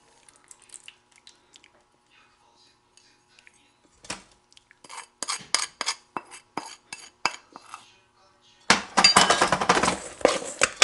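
A spoon stirs chopped pecans and butter for a sweet potato casserole topping, making faint clinks at first, then a run of sharp scraping clinks against a dish, ending in a dense, gritty stirring rattle.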